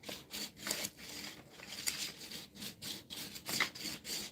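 Polymer clay stripe cane rubbed by hand to press a design onto the clay, giving a steady series of soft, close scuffing strokes in a repeating rhythm with no talk.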